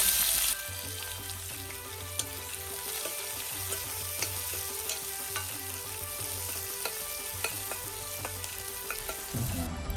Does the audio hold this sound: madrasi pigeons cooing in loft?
no